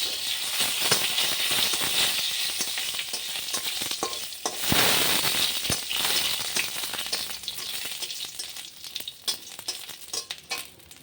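Cumin seeds, dried chillies and bay leaves crackle and hiss loudly as they fry in hot oil, with a dense continuous sizzle and occasional rattling stirs near at hand.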